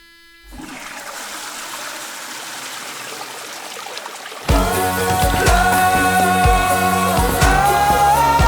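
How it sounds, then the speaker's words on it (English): A toilet flushes with a steady rushing, trickling stream of water. Midway a bathroom-sampled musical track with tonal, synth-like layers comes in loudly over the running water. "So you can hear a toilet flushing, you can hear a toothbrush synthesizer."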